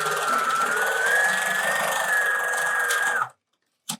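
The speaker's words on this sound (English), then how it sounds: "We're going to stitch the curved edge." A sewing machine stitches the curved edge of fabric mask pieces with a loud, steady, close whir that runs for about three seconds, stops, and is followed by a brief click.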